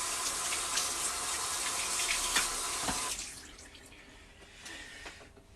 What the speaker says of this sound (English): Wash my hands again.